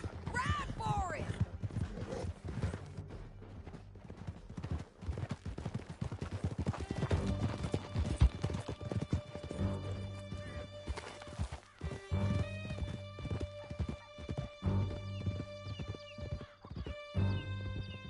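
Horses galloping in Red Dead Redemption 2, with steady hoofbeats and whinnies under continuous loud activity and occasional talk, building in intensity toward the end.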